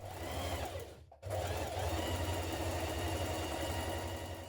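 Sewing machine stitching a 1 cm seam on a coat, a close, continuous motor hum and rapid needle chatter with a brief pause near the start before resuming steadily.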